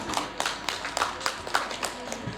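Scattered audience clapping at a municipal public works World Water Day ceremony, with a small group's individual claps distinct and irregular in rhythm, fairly near and moderately loud.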